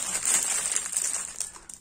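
Crinkly rustling of a large plastic bag holding the parts of a British 3-ton LGOC B-Type lorry model kit, a steady close-up crackle with a few sharper crinkles toward the end, no speech.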